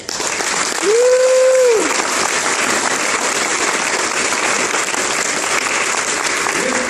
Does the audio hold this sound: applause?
yes